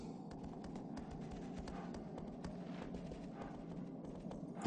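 Horse hooves clip-clop steadily in Shadow of the Colossus, a continuous run of close taps over a dense, noisy in-game backdrop with no talking.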